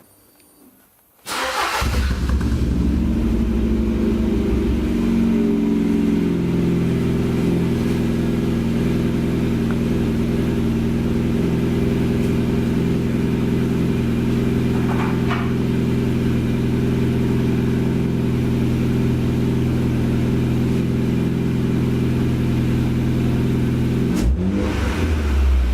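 A Ford Fiesta Mk6 fitted with a 2-inch stainless steel exhaust starts with a quick crank, then rumbles at a steady, loud idle with a slight rev midway before cutting off near the end.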